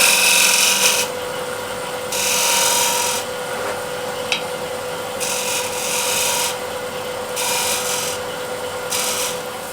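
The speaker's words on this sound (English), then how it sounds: "I'll use a refiner to shear scrape." A refiner shear-scrapes an 11-inch Osage orange wood bowl, giving repeated raspy scraping strokes of about a second each, close and fairly loud, separated by brief pauses.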